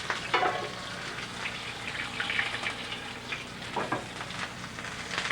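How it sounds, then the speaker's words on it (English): Steady, crackling sizzle of pork loin searing in hot oil, with bursts of sharper spattering, continuous and close. "We can hear that just sizzle and sear"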